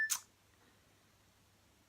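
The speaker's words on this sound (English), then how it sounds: "that's my Nokia brick beeping" A Nokia mobile phone, an old brick-style handset, gives a short burst of beeps near the start, close and clear, then the room goes quiet with only a low hum.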